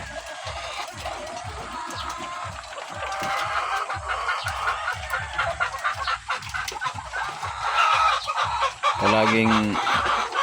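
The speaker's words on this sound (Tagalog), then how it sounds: "Ganitong manok, mga lahat puti. Lahat yan puti." White layer hens clucking on an egg-laying poultry farm, a busy overlapping flock chorus with one louder squawk near the end, while someone talks over it and an engine hums underneath.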